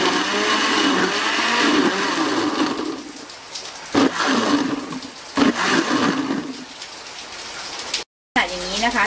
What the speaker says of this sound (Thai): แล้วปั่นกันค่ะ